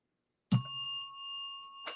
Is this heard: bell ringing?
yes